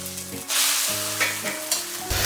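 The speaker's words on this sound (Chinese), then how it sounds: "好，我们倒入一个鸡蛋" An egg drops into hot oil in a wok and sizzles loudly, a bright crackling hiss flaring up at once and continuing with small pops and spatters.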